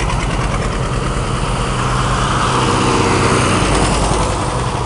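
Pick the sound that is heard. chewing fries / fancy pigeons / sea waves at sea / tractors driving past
tractors driving past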